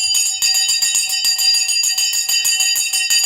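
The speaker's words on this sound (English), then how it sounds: "The bell has now gone." A stock market closing bell rings in a rapid, continuous trill of metallic strikes, steady and loud for the full few seconds with no voices over it.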